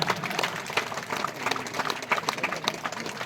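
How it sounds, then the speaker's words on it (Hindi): Applause from a crowd at a school judo prize distribution and annual function, steady scattered clapping throughout, moderately loud. "जोरदार तालियां बजती रहें।"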